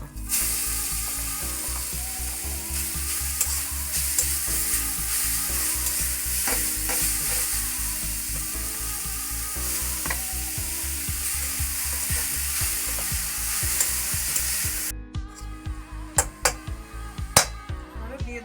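Grated carrots in ghee are stirred and fried in a hot pan for barfi, a steady close sizzle with spatula scrapes throughout, then a sharp drop to quieter clinks and scrapes near the end.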